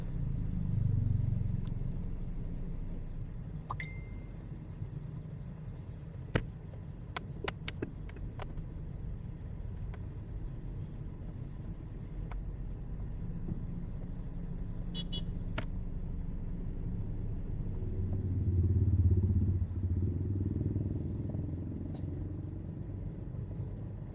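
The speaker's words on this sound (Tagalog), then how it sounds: "Ang traffic sa Dasma" Street traffic in Dasmariñas, Cavite, passes as a low steady rumble of cars and motorcycles, with engine drones swelling and fading, occasional clatter and distant horn-like tones, heard from inside a moving vehicle.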